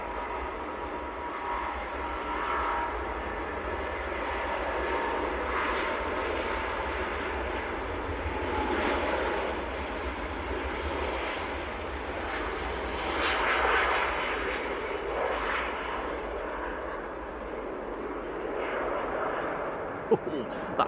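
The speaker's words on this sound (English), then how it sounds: "Cathay Pacific to Hong Kong. This is an A350." A Cathay Pacific Airbus A350 departs Manchester Airport for Hong Kong with a sustained, broad engine roar that swells and fades over about twenty seconds, heard at a distance with a person talking over it.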